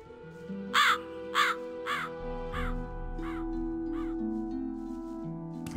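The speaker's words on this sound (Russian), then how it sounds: "Типа мы прошли мимо, и звук остался на дереве. Вороны." Crows caw in the game Gothic II, a run of about six rhythmic harsh calls from a treetop that fade as the listener moves past, over steady ambient background tones with no talking.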